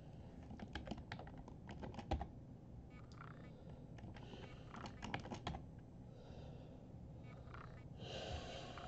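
Quiet keyboard typing in bursts of rapid clicks separated by short pauses, close by, with faint breathing in the background.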